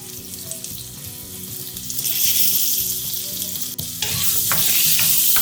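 Onions and chopped tomato fry in a pan for hotel-style plain salna, giving a steady close sizzle with scraping stirs that grows louder partway through; no one speaks.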